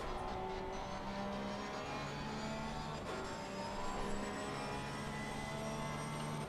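A Porsche race car engine heard from the onboard view in a racing simulation at Mount Panorama, droning steadily and loudly as gears shift, with the pitch rising and dropping through the lap.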